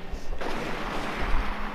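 Explosions go off during gameplay of the video game inFamous 2, with rumbling bursts and sharp hits, one of them louder, sitting at moderate level with no clear talk over them.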